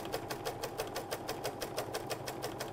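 A sewing machine runs zigzag stitches set to maximum width with a very short stitch length, giving a quiet, fast, even rhythmic clatter of needle strokes with no talking.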